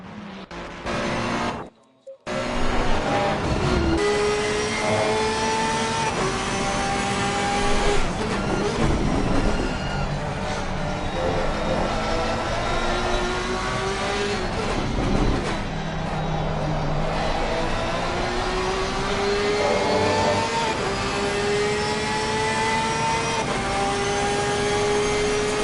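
Onboard engine of a Porsche GT race car in Assetto Corsa Competizione on the Nurburgring Nordschleife, a steady loud drone whose pitch climbs and falls through the gears, with a brief cut near the start and a commentator talking over it.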